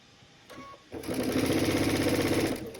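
A sewing machine stitches fabric pieces for a Dresden quilt using a quarter-inch foot, starting after a brief pause and then running in a steady, close, continuous whir for about two seconds before easing off.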